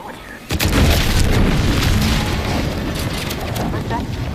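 A loud, sudden explosion in the video game The Outer Worlds 2 bursts in after a brief quiet lead-in, then settles into a sustained, deep rumbling roar that fills the rest of the moment.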